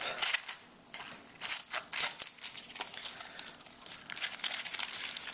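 A thermal pad for a Tuniq 4 CPU cooler is cut up close by, with crisp crinkling and snipping bursts coming in irregular clusters, alone and without talk.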